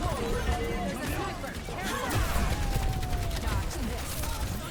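Video game gunfire in a hero shooter as a Sojourn player fires at an enemy Widowmaker, dense rapid shots and crashes layered with game effects under continuous talking.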